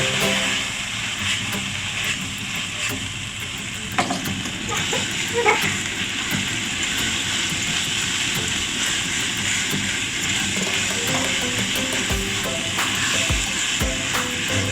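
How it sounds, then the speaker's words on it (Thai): Steady loud sizzling of dill and minced pork being stir-fried in a hot pan, a continuous hiss with occasional scraping stir noises throughout. "ก็ผัดผักชีลาวนะครับใส่หมูสับนะครับ"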